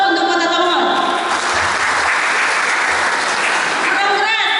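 A crowd at a peaceful-election gathering in Tomohon city applauds in a dense, steady wash of clapping that lasts throughout, with a voice speaking over it at the start.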